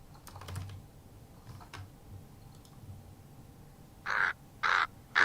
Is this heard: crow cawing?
yes